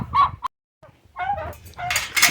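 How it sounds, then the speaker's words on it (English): Backyard turkeys gobble and chatter in short bursts close by, mixed with chicken clucking from a homestead yard, with a brief quiet gap between the calls. "You can hear my turkeys talking too."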